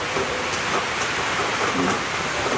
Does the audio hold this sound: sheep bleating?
no